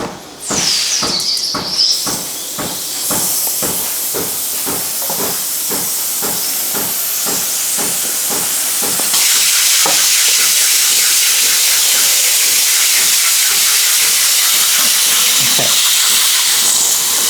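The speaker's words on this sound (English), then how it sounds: "Steam arm on when the machine wakes up and gives us a nice lot of steam." Espresso machine steam arm hissing loudly and continuously, with rhythmic pulsing at first as it wakes, then a steady full spray as steam builds, close and alone.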